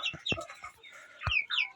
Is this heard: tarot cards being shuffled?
no